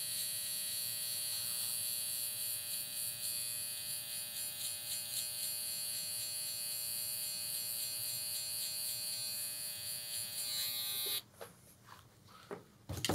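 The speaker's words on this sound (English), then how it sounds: "I'll follow up underneath that with the soft set trimmer, the cyborg." A Cyborg soft set electric hair trimmer buzzes steadily in a barbershop haircut, a close, continuous high-pitched electric whine that stops abruptly near the end.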